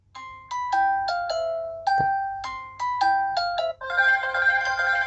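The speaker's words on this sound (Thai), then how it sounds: "ต้องการจะตั้งเสียงเรียกเข้าเองนะครับ" A Messenger incoming-call ringtone previews on a phone: a bright, chiming melody of short bell-like notes plays in repeated phrases, then swells into a fuller sustained chord, clear and close with no talking.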